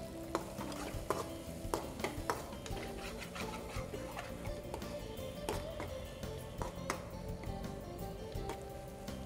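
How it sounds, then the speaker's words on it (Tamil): Tomato masala frying in a pan while a spoon stirs it, with steady sizzling under frequent scraping clicks and knocks of the spoon against the pan, close and continuous. "நல்லா தக்காளி மசாலா எல்லாம் மிக்ஸ் ஆகிடுச்சு, நல்லா ஃப்ரை ஆகிடுச்சு"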